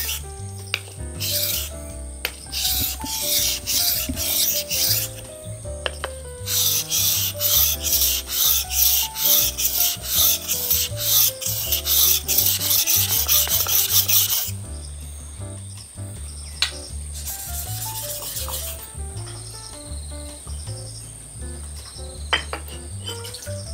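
A dull machete and sickle are sharpened on a whetstone: long stretches of steady, rhythmic scraping strokes, loud and close, with a constant high ringing tone underneath and a few pauses between bouts.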